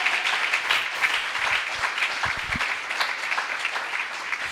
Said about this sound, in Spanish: le pueden dar un aplauso al Señor en esta hora